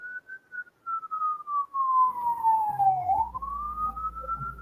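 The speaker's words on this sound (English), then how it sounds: "Sirens, baby." An emergency vehicle siren wails in a single steady tone that dips lower and then climbs back up, over a low traffic rumble, with no one speaking.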